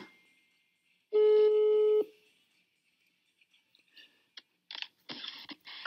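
A phone call on speakerphone plays a loud, steady electronic tone for about a second, then falls quiet before short bursts of line noise and clicks as the call connects.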